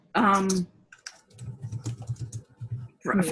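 Quick, soft clicks of typing on a computer keyboard patter in an uneven rhythm, framed by brief bursts of talking before and after.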